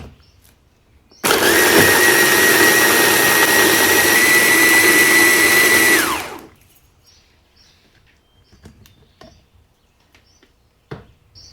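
Blender grinding Goan vindaloo spice paste with tomato puree and ground dry aromatics: a loud, steady high-pitched motor whir running about five seconds before cutting off and spinning down, followed by faint clinks.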